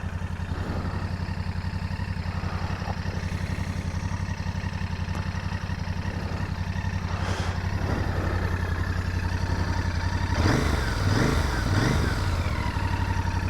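Royal Enfield Interceptor Bear 650 motorcycle engine running steadily at idle with a low throbbing rumble, growing louder and more clattery near the end as revs rise slightly.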